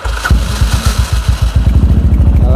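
Old motorcycle engine being started, sputtering into a loud, close, rhythmic idle thump that settles into a steady beat.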